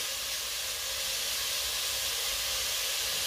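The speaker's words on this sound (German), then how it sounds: "Wenn er dann angefangen hat, so ein bisschen schon zu brutzeln" Ground meat for ufak köfte fries in oil in a pan, giving a steady, even, dense sizzling hiss that runs without a break and with no talking.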